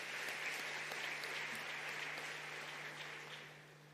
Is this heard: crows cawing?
no